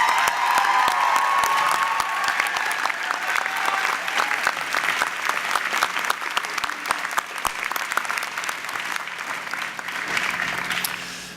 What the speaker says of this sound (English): And how about a big round of applause for the faculty on stage as well?